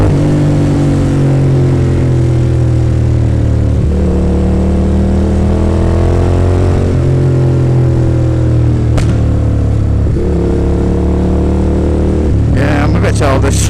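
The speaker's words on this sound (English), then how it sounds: "I have a terrible habit of doing kill switch pops" Carburetted motorcycle with loud aftermarket exhaust cans, revving up and down in repeated surges with sharp kill-switch pops and crackles near the end, close and loud.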